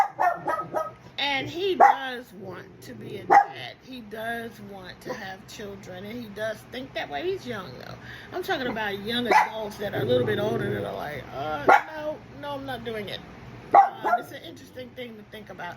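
A dog barks and yips now and then in the background while a person keeps talking over it. The barks are short, scattered and moderately loud across the whole stretch.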